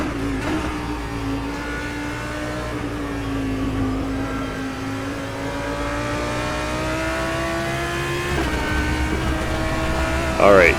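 An Audi R8 GT3 race car engine in rFactor 2 at Mugello, a steady loud drone holding pitch through a long stretch before a quick rev and shift near the end, with a voice talking over it.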